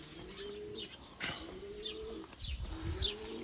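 Tumbler pigeons coo close by in three repeated rolling phrases, mixed with short chirps and light rustling, with no talking.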